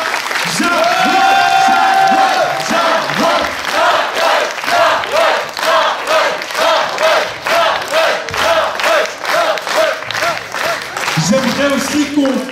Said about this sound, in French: la plus grande ovation pour Jawad, s'il vous plaît